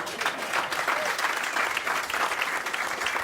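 An audience at a veterans' car presentation event applauds, a steady wash of many hands clapping at a moderate distance, continuous for several seconds with a faint voice at the start.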